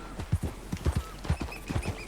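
Horse hooves clip-clopping in steady, uneven beats as a rider moves along in Red Dead Redemption 2, close and clear with a faint ambient bed and no talk.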